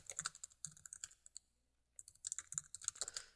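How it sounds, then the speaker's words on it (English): Quick, crisp keystrokes on a computer keyboard while text is entered into a web page body field, clicking in short bursts with a pause in the middle, close and fairly quiet. "we can either start typing text in here"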